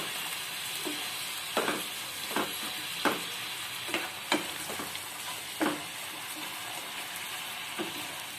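A sweet Navratri mixture with a cup of sugar is fried and stirred in a pan, a steady soft sizzle punctuated by regular scraping strokes and light clicks of the spoon, with no talking.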